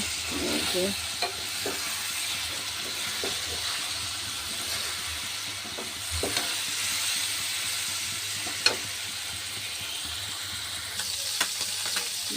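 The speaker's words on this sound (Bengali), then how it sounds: "মাছ ভাজতে দিয়ে দিচ্ছি মাছ ভাজা হচ্ছে" Fish frying in a pan, a loud, steady sizzle with hissing steam and occasional crackles and clinks, continuing without a break.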